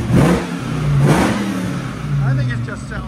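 A 2004 Dodge Ram SRT/10 with its 8.3L V10 and Magnaflow exhaust revs in a few loud, deep pulses close by, each swelling and falling back, with people talking over it.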